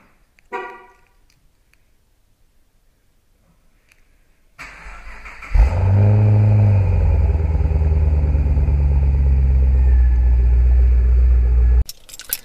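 A Pontiac G8 V8 fires up by remote start after a brief chirp and quiet pause, the engine cranking into a loud, steady idle rumble held for several seconds before cutting off.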